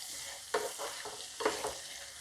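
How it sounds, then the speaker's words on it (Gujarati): Spices with Kashmiri red chilli and salt fry in oil in a pan, a low steady sizzle broken by two distinct stirring scrapes, fairly quiet and close. "હવે આ બધું આપણે તેલમાં ચડવા દઈશું"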